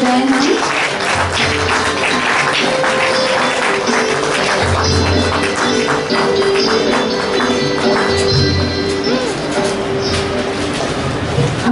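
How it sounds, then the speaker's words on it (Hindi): An audience at an inauguration ceremony for a spiritual empowerment event claps loudly, a continuous dense roar of applause filling the room for the full stretch with a steady tonal hum beneath. "जोरदार तालियां बजाएं हम।"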